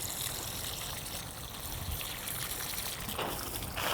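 Water, mixed with fertilizer, pours steadily onto vegetable plants in a home garden, a soft, continuous trickle and splash heard close by without speech.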